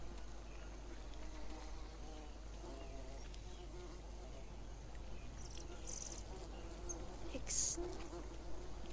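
Bees buzzing in a lively cave in the jungle survival game Green Hell, a steady faint droning hum running throughout with a few soft higher chirps and a low background rumble.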